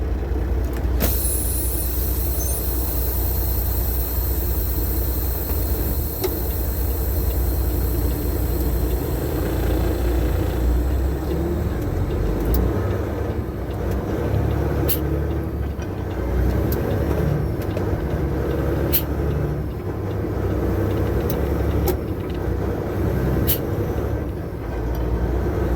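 An 18-speed truck's diesel engine drones steadily as the driver shifts through gears, with a continuous loud rumble, brief hissing air bursts and clicks between shifts, and a voice talking throughout.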